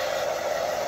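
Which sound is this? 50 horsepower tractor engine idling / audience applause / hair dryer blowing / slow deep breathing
hair dryer blowing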